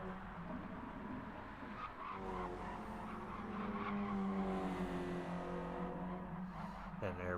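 Race cars sliding and squealing their tires on the Blue Moon infield track in FlatOut, a continuous droning engine roar with skidding underneath and a voice talking over it.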